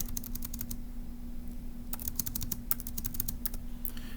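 Rapid clicking keystrokes on a computer keyboard, close and crisp, coming in two quick bursts separated by a short pause, over a faint steady hum.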